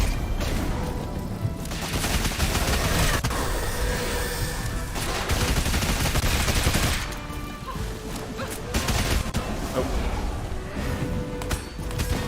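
Sustained video game gunfire, dense and loud, with overlapping shots, crashes and booms rolling on for several seconds with brief lulls.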